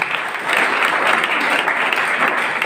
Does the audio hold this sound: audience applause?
yes